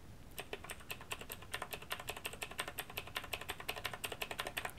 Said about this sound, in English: just listen to how loud the keys are